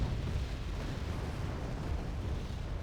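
A continuous, dense roar of TOS-1 Buratino rocket artillery explosions rumbles in the strategy game Wargame: Red Dragon, sounding distant and steady with no distinct individual blasts and no voices.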